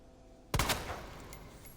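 Video game gunfire erupts suddenly after a quiet lead-in as a loud, sharp burst of a few rapid shots, then trails off into a decaying echo.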